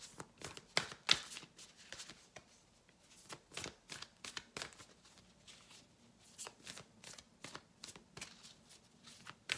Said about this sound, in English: I'm shuffling from my other animal spirit deck.